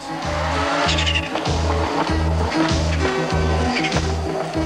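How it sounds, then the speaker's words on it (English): Rally cars racing through a forest stage at the 1987 Mountain Trail, a loud close engine roar with rapid rhythmic pulsing and tyre noise, no voices. "the cars, lights blazing, roared through the trees"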